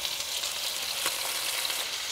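Hamburger patties frying in a pan in a campervan kitchen, giving a steady, close sizzle and crackle throughout with faint spits and pops, no voices.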